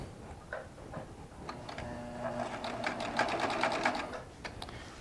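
A Baby Lock Triumph serger running a 4-thread overlock stitch along quilt binding, a steady fast mechanical whir with rapid ticking needle strokes that builds after a couple of brief starts and runs continuously, close and clear.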